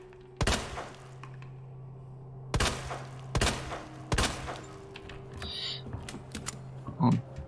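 Gunshots ring out in Resident Evil 2 Remake, a few sharp, loud reports spaced apart over a low steady game ambience, with no voices.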